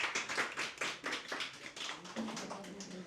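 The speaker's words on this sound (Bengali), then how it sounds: "তো সঙ্গীতার জন্য একটা জোরে করতালি" A small group claps for a student who topped a mock exam, a quiet, uneven patter of separate handclaps with audible gaps, faint overall.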